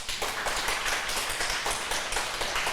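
A church congregation applauds steadily, many hands clapping together in a dense, sustained burst with no voices over it.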